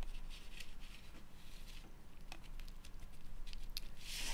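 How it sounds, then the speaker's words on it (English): Steady soft patter of rain falling outdoors, heard faintly from indoors as a continuous hiss with a few light taps. "Yep, it's raining out there."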